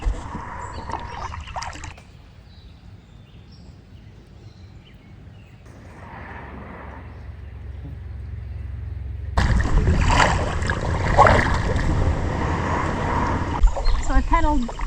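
An inflatable kayak is paddled on open water, with soft splashes and trickling drips from the blades, quiet at first and then louder, with a person speaking over part of it.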